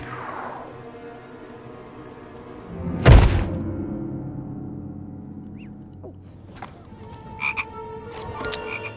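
A magically animated chocolate frog from a Harry Potter film croaks in short bursts after a sharp thud, with other small, scattered sounds around it.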